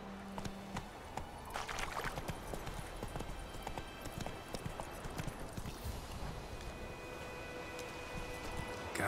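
Hoofbeats of the horse Roach galloping in the video game The Witcher 3: Wild Hunt, a steady rapid clip-clop running throughout over a busy, continuous background of game ambience.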